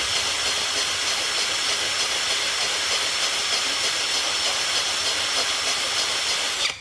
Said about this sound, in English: So I'm pulling the trigger on my Bauer 20 volt